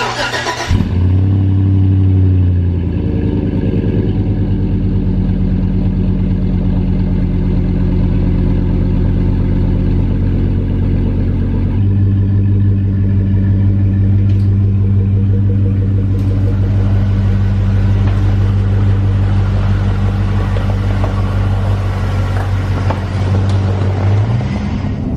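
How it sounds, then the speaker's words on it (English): A lifted Chevy Avalanche with an MBRP cat-back exhaust cold-starts with a sharp crank, then settles into a deep, steady, rumbling idle that holds close and loud throughout, with a slight shift in tone partway through. "before we're gonna start the truck up, do another cold start"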